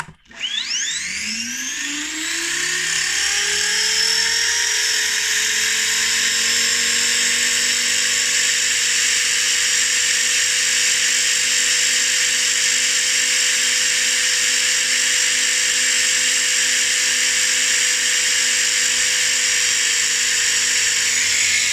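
An RC helicopter's electric motor and rotor spool up under a Spirit FBL governor, a rising whine climbing steeply over the first couple of seconds and then holding a loud, steady high-pitched drone close by, with no talking.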